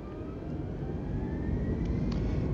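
Airbus A320neo engines in Microsoft Flight Simulator 2020 are throttled up with the parking brake set, a steady broad jet roar holding loud throughout with a faint whine above it.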